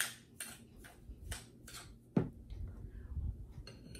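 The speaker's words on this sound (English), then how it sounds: "And mix, mix, mix, mix." A utensil mixes a sugar scrub with a few drops of essential oil in a container, giving a series of light clinks and scrapes at a steady pace, close up, with one sharper knock partway through.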